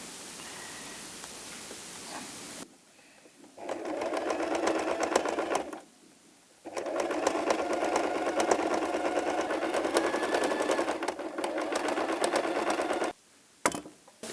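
A sewing machine stitches fabric pinned with tacking pins, running in two long steady motor runs separated by a short pause, with a brief stop and a quick final burst near the end.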